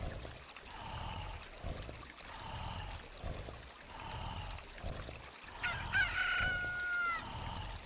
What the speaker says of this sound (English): Look, a chicken hatched from the egg you were incubating.